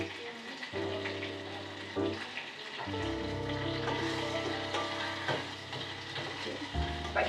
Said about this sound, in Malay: kita tambahkan 3 batang serai ketuk, daun limau purut dan asam pink ke dalam tumis tadi